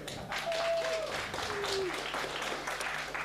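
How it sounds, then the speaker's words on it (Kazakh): An audience at a Kazakh stand-up comedy show bursts into dense, steady applause that fills the room throughout, with a brief voice rising over the clapping. "Енді сіздердің шапалақтарыңыз сылбыр болмасын бірақ."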